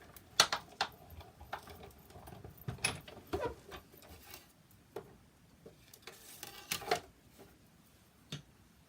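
A hand-cranked die-cutting machine used for card making, scattered mechanical clicks and ratcheting ticks at an uneven pace as the plates pass through, close and quiet against a hushed room.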